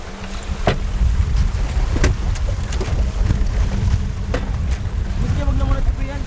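Sea wind rushes across a sinking island on an overnight trip, a continuous broadband hiss and rumble with a few sharp knocks and people talking intermittently.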